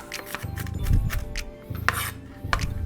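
A knife run through food while preparing a confit burger, heard as a few close, rasping scraping strokes with short pauses between them and faint clinks.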